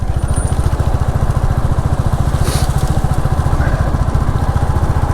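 A Royal Enfield Classic 350 motorcycle thumps steadily along a road, its single-cylinder engine giving a close, even, rapid beat with a brief whistling tone partway through and no talk.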